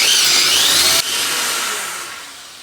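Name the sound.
power drill drilling bolt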